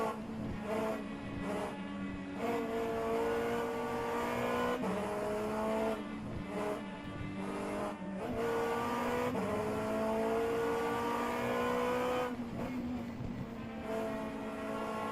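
Race cars, P2 prototypes and GTE machines, circle a dusty track in an Asian endurance championship round, engines droning steadily with repeated rising and falling revs as cars pass, no voices.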